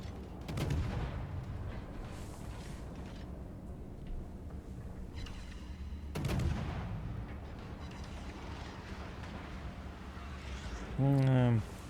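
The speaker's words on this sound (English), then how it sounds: "Enemy Hindenburg took an interest in me and is trying to blind fire me into the smoke" Naval gunfire in the World of Warships video game, with a Hindenburg cruiser firing: two heavy, booming salvos spaced several seconds apart over a low rumbling game backdrop, followed by a short tonal chirp near the end.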